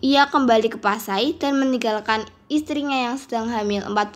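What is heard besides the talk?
No distinct noise like a dog, phone or traffic.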